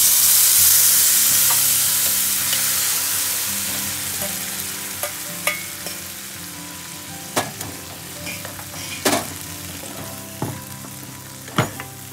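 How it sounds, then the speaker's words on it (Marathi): A banana flower vegetable mixture sizzles loudly as it fries in a spiced tempering, the hiss gradually settling while a spoon scrapes and stirs in scattered clicks. "आता मी याच्यावरती तयार झालेली भाजीचं मिश्रण"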